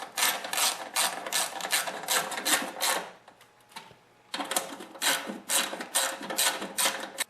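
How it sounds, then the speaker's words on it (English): A hand ratchet with a 3/8 socket tightens bolts on a Murray Noma snowblower during auger cable replacement, giving bursts of rapid, close metallic clicking that pause briefly near the middle and then resume. "And now with the 3/8 socket and a ratchet, you want to tighten up the bolts."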